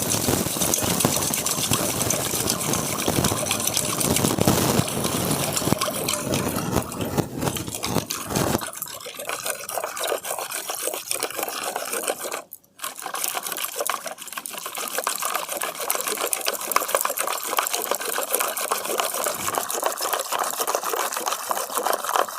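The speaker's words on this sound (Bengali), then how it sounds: "এই ডালঘাটা কাটার সাহায্যে আমি খুব ভালো করে এটাকে ঘেঁটে নেব" A dal masher churns sweetened lassi in a container, producing a continuous, fairly loud sloshing and whirring. It pauses briefly near the middle and then carries on steadily.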